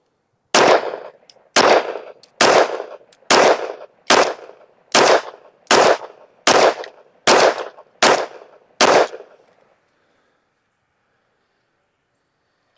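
Ten evenly spaced gunshots from a handgun fitted with a Gowutar HHC-B22 red dot sight, firing CCI Blazer rounds, each sharp and loud with a short decay, roughly one per second, then silence.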